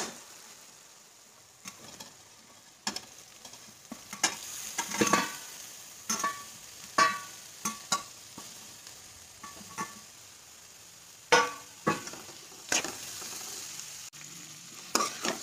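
Cauliflower and capsicum being sautéed with onion in a home kitchen pan over low gas, a soft sizzle broken by irregular scrapes and clacks of a spatula stirring, close and fairly quiet with no talking.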